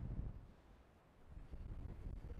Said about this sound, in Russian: Но ветер сдувает все